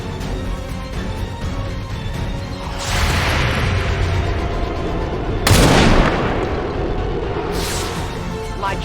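Gunfire from the XCOM 2: War of the Chosen video game, with loud shot bursts near 3 and 5.5 seconds and a third blast near 7.5 seconds over a steady background of game ambience.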